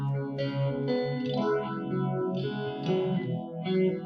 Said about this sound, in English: cool phaser with analog characteristics